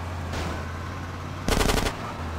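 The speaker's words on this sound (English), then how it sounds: "They shooting behind me?" A short burst of rapid automatic gunfire in Grand Theft Auto Definitive Edition, about a half-second rattle of shots over a steady vehicle engine hum, with an earlier softer pop.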